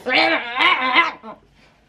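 A voice imitates cats fighting with a loud, wavering yowl that rises and falls, then trails off into silence.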